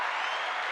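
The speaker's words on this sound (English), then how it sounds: "just a hand clap to you" A brief, steady wash of applause from an audience, a dense hiss of many hands clapping together for under a second, with no distinct single claps standing out.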